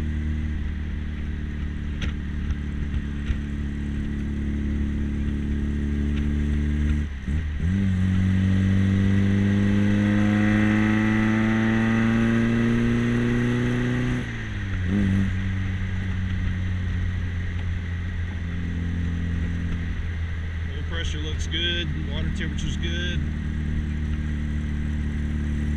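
A restored 1958 MGA Twin Cam driving on a cold day, its engine note climbing steadily through the gears with distinct shifts, a steady close in-car drone lasting throughout.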